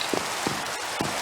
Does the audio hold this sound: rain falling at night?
yes